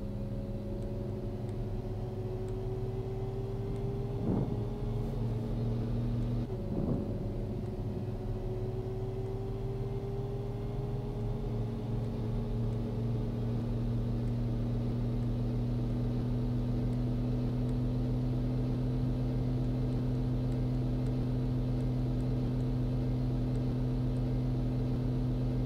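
Farm tractor from the Cattle and Crops game driving steadily, a constant low engine drone with a slowly rising pitch and a couple of brief clunks near the start, loud and continuous with no talk.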